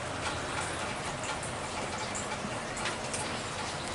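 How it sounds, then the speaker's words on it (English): Steady rain falls through a grey morning, a dense even hiss with scattered tapping drops, continuous and close, with no voices. "it's been raining like this all morning"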